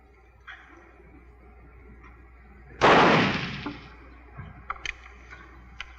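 A single loud gunshot in a western shootout, a sharp crack with a short decaying tail, followed by faint scattered clicks and rustles in an otherwise quiet scene.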